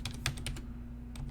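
Quick keystrokes on a computer keyboard while entering network settings: a short, soft burst of separate clicks, close and quiet, over a faint steady hum.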